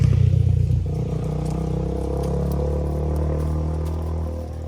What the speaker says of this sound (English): I heard that motorcycle coming.